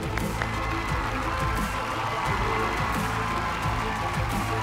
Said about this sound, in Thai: ขอเสียงปรบมือดังๆรับท่านผู้ชมทางบ้านนิดนึงครับ